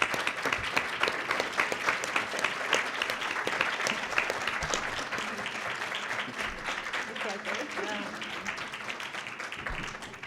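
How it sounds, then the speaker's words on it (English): An audience applauds a panel at the close of a civil rights discussion, a sustained, busy patter of clapping from many people with voices talking over it toward the end. "Please give the panel a great round of applause."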